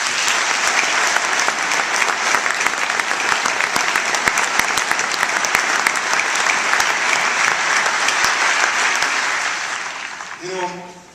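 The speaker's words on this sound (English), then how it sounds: "I'd really like to just give all of them a round of applause" Loud, sustained applause from a church congregation at the opening of a new sanctuary. Dense clapping carries on steadily for about nine seconds, then fades out as a voice and a few other sounds come in.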